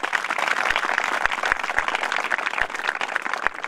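A studio audience at a New Year satsang claps loudly together, a dense, steady roar of hand claps lasting several seconds with a few sharper, louder claps standing out.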